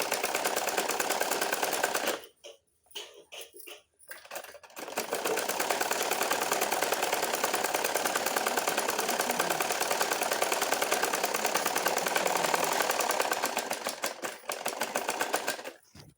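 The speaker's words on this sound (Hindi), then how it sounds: "इसी प्रकार डबल सिलाई चलाते हमें चले जाना है।" An electric sewing machine runs a double stitch line joining a sleeve to a garment, a fast, steady rattling hum that pauses briefly with a few stop-start bursts, then carries on continuously.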